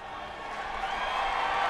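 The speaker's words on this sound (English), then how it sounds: "Crowd chanting Larson." A large race crowd at the Indianapolis oval after a NASCAR Cup Series Brickyard 400 win, a broad roar of many voices swelling steadily, dense and distant-sounding, with no distinct words standing out.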